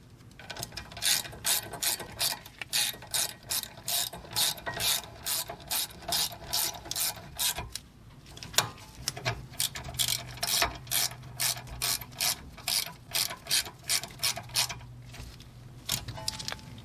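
A torque wrench ratchets steadily while tightening rear brake bolts on a 2018-2024 Buick Enclave or Chevy Traverse, with loud, close clicking bursts in a regular rhythm and a short pause midway.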